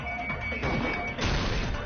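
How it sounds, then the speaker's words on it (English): Glass shatters in a sharp crash followed by scattering debris, a window-breaking sound effect from the video game Danganronpa 2: Goodbye Despair, brief and close with no talk. "the girls heard the sound of the window shattering"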